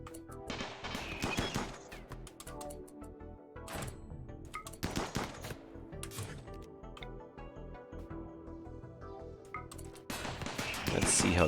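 Gunfire in the video game Rimworld, scattered sharp shots and short bursts spread across the stretch, fairly faint, with a person talking throughout and background music.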